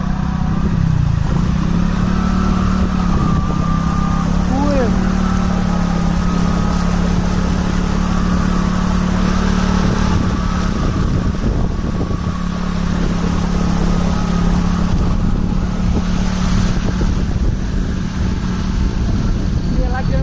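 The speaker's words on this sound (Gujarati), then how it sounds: "બાઈક ચલાવવું પડે કે બંધ થઈ જાય તો પાણી જાય." A motorcycle engine hums steadily at close range while riding through floodwater on the way to Dharoi Dam, a constant loud drone with clattering and splashing, as people talk over it.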